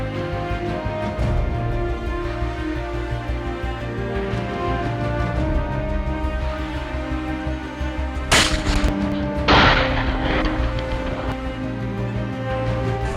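A shotgun is fired from a moving electric unicycle, two sharp blasts a second apart cutting through a steady, droning tonal hum.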